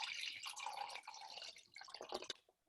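Water poured into a cup halfway, with splashing and dripping for about two seconds before it stops; close and fairly quiet, with no talking.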